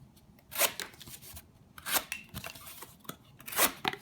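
Buck Vantage Pro folding knife with a hollow-ground edge slicing through old pizza box cardboard, a few distinct close scraping cuts spaced about a second apart with quieter rustling between.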